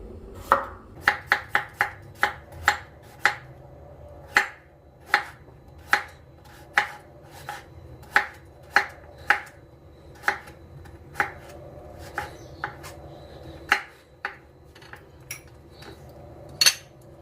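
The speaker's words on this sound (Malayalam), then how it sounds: "ക്യാരറ്റും ഞാൻ ഇതുപോലെ നീളത്തിൽ തന്നെ അരിയണം" A knife slices a carrot lengthwise into strips on a board, with about twenty crisp, close chopping taps in an uneven rhythm and no talking.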